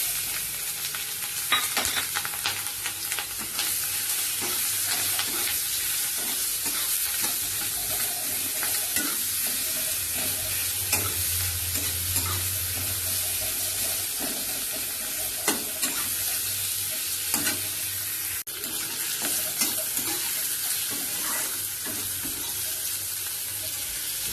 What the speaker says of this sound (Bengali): কড়াইতে এবার তেল দিচ্ছি এখন আমি এই মাছের তেলটা করে নেব আগে কুচুনো পেঁয়াজ আর কাঁচা লঙ্কাটা দিয়ে দেবো